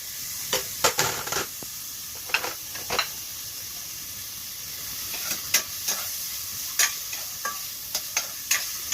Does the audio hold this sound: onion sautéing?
yes